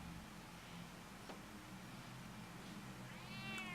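A cat meows in the Batman Telltale video game: a couple of short, fairly faint meows, the clearest near the end, over a steady low background hum with no talking.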